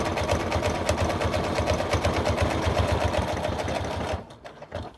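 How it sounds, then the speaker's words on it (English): A sewing machine stitches a seam on a clutch purse with a quarter-inch allowance, its fast, even needle rhythm running loud and close for about four seconds before stopping abruptly. "I'm sewing at 1/4 inch seam allowance"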